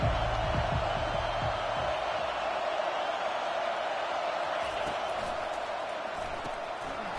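A stadium crowd cheers at a college football game, a dense, steady roar of voices filling the space, with faint play-by-play talk underneath.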